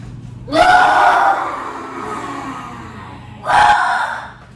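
A child's loud breathy roar imitating a lion, done as a fitness breathing exercise at home: one long exhaled roar, then a second shorter burst after a pause, close and alone.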